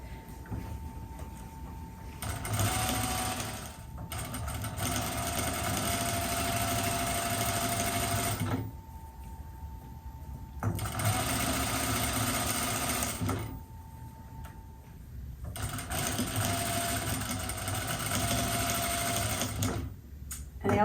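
Sewing machine running a long basting stitch along a pillow welt, three sustained bursts of steady whirring stitching separated by short pauses, close and clear with no talk.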